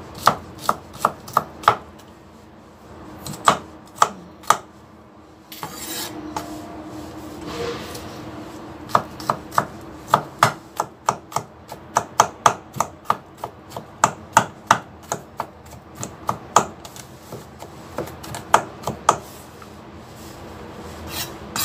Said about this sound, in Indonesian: bawang putih kita cincang